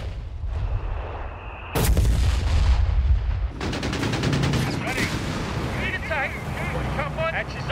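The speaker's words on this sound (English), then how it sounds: "Bishop, self-propelled artillery." Self-propelled artillery firing in the video game Company of Heroes 3, a sudden heavy boom with rumbling battlefield noise after it and brief voice chatter over the din.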